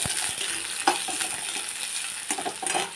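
Dried chillies, nigella seeds, garlic and onion fry in hot oil for potato and greens, a steady close sizzle broken by a few sharper crackles and stirring clinks.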